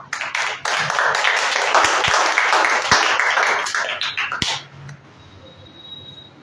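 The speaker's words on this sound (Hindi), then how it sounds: "ताली बजाए जी टीम के लिए।" Church congregation at a Sunday worship service claps together in a dense, sustained burst for several seconds, fairly loud and close, then fades into quiet room tone.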